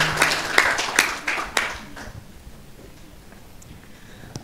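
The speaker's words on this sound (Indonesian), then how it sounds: "Tepuk tangan semuanya." A seated audience at a student talk show applauds, with a brief run of claps over the first two seconds that quickly thins out and dies away into quiet room tone.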